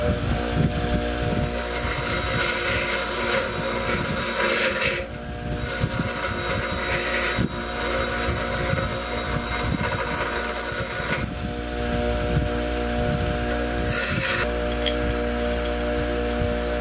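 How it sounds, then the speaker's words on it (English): Grinding on a heavy-duty motorized bicycle rag joint sprocket: a steady, loud mechanical whine with a high-pitched grinding edge that cuts out briefly and returns several times, with no talking. "you want to make sure that you grind off an even amount all the way around"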